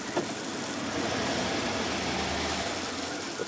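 A Ford E150 van with a 351 V8 idles with overdrive and air conditioning off, a steady, low, close engine rumble that continues evenly with no speech.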